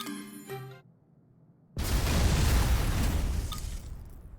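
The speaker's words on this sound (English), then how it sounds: "Very well, I shall destroy the wall. Stand back, I am going to shoot it." Explosion from shooting a castle wall in Harvestella, a sudden loud blast after a short chime and near silence, then a sustained roaring rumble that slowly fades.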